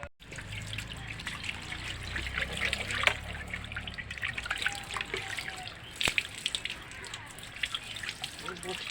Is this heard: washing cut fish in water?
yes